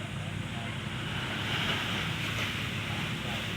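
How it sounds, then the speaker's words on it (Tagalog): Steady roar of surf washing onto the shore, a continuous broadband hiss with wind buffeting the microphone throughout. "Nakakalingap yung dagat oh."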